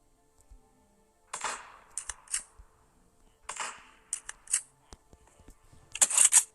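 Sharp, sparse gunshot cracks from a sniper rifle in a Minecraft gun mod, firing in short isolated bursts with quiet gaps between them and no talking.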